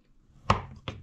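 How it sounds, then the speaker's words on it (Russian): A knife cuts a block of soap base into small cubes on a board: two crisp close chops about half a second apart, with no voices. "сейчас нарежем мыльную основу сначала"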